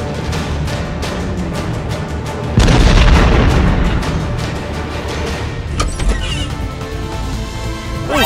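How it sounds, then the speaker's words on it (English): Loud boom of an explosion in Roblox Brookhaven, a sudden heavy burst that rises over a dense noisy background and then rumbles on before fading into further crashing sounds. "What was that explosion?"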